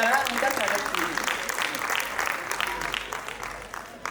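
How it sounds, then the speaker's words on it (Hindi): Audience applause after a dance performance at a school annual function in Rishikesh, a dense patter of many hands clapping steadily throughout, moderately loud with faint crowd murmur beneath. "कृपया तालियों के द्वारा उनका स्वागत कीजिए"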